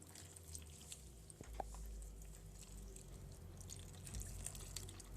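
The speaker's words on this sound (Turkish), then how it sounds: "yeteri kadar ılık su koyuyorum." Lukewarm water poured over fresh pistachios in a bowl, a steady faint trickling stream close by with a few drips, no talk.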